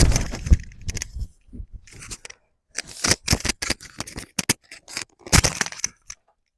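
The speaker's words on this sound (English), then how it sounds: "Cut the branding strip off." Scissors snip through patterned polka dot paper, trimming the branding strip off a 12x12 scrapbook collection sheet; a series of close, crisp cuts and rustles, some quick and clustered, with brief pauses between.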